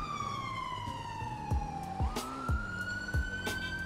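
Police car siren in the GTA 5 video game, a close, continuous wail sliding down and then up in pitch, with regular dull thumps beneath it.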